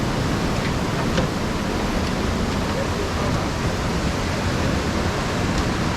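A strong, steady rush of falling water at the Saklikent national park waterfall in Turkey, loud and close, a broad unbroken roar filling the whole stretch.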